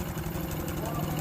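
A Honda Supra 125 motorcycle engine with a stalling problem idles close up during an ignition check, a steady rapid low putter throughout.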